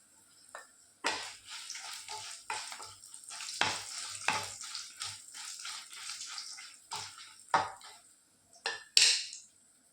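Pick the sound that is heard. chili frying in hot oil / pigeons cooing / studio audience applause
chili frying in hot oil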